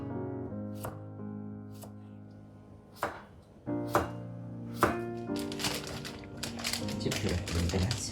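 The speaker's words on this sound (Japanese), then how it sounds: "斜めに切るよ、ちょっと大きめにね。" A knife chops food diagonally into fairly large pieces in a home kitchen, giving several sharp, separate taps against a board over a background of music, then a denser run of quicker cuts toward the end.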